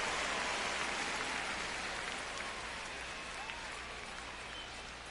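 Steady crowd roar from a baseball stadium in MLB The Show 25, a Dominican league game between Aguilas Cibaenas and Leones del Escogido, holding as a dense, even wash of cheering with no break.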